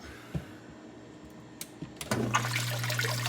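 Water gushes into a fish bowl of a home aquaponic system, starting abruptly partway through as a steady, close, moderately loud flow after a few faint knocks and clicks.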